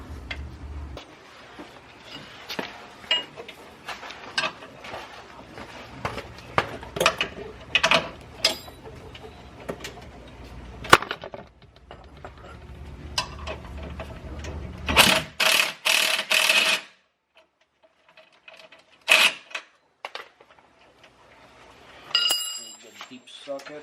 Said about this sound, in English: I'm going to put this back in, use the impact wrench,